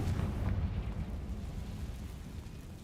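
A Confringo blasting spell bursts in Hogwarts Legacy, a fairly quiet low rumbling explosion that fades over a few seconds, with no talking.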